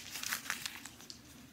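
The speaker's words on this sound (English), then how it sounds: "What I'm going to do with the second sheet of paper is crumple it up into a ball." A sheet of paper is crumpled up into a ball by hand, giving a close, crackly rustle with several sharp crinkles that fade toward the end.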